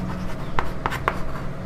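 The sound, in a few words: writing on board while solving math problem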